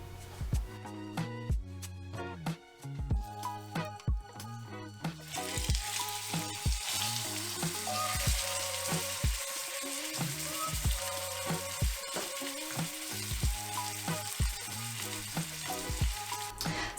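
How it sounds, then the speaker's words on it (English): A beef pot roast sears in hot oil in a skillet, with a steady loud sizzle and crackle and repeated knocks and scrapes of handling, and no voices over it. "sear your roast on both sides"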